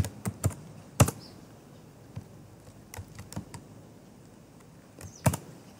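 Keys on a computer keyboard are tapped in a sparse, irregular pattern of quiet clicks with a couple of louder strikes, close by in a quiet room.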